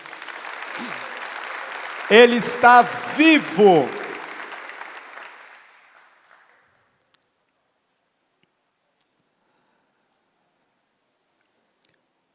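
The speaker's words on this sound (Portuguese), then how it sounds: "Aplauda essa certeza." Church congregation applause during a priest's Mass homily, a dense burst of clapping that builds through a few seconds, with a voice speaking over it, then fades out into silence.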